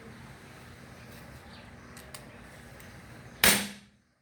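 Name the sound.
ARMSCOR PCP air rifle shot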